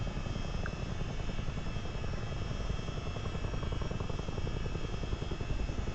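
Helicopter in flight, a steady thumping rotor drone with a constant engine whine, faint and unbroken for the whole stretch, with no voices.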